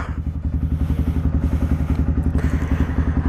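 A motorcycle engine runs at a steady, throbbing idle close up, its rapid even pulses loud and continuous before riding off, with no talking.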